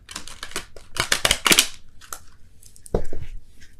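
Tarot cards being shuffled by hand, a run of crisp riffling clicks and slaps in bursts, then a brief pause and a final shorter flurry, close and clear with no talking.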